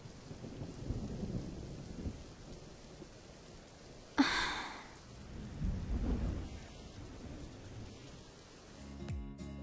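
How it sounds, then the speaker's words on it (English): Steady rain with a sharp thunderclap partway through and a rumbling tail afterward, in the Minecraft video game, heard alone without speech. "It's still raining."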